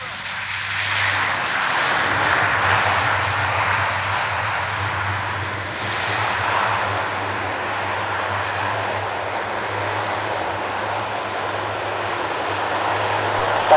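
Steady, loud engine roar from an aircraft descending to land at the Fairford airshow, a continuous broad drone with a low hum, faint background voices mixed in.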